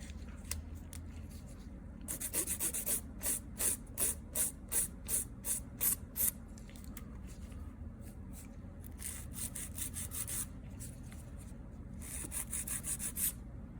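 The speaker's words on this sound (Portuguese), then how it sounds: "vou posicionar a lixa aqui na unha bem retinha" A nail file rubs back and forth across the tip of a fingernail, shaping it after a top coat, in a run of quick, close, rhythmic scratchy strokes, then a pause and another burst of filing.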